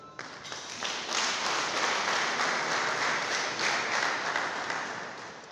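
Sustained applause from a large wedding reception crowd welcoming the bride and groom, steady and loud for several seconds before tapering slightly at the end.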